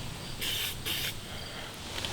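Spray primer hisses from an aerosol can onto an engine cover in two short bursts close by, over a steady background hum, with a faint third puff near the end.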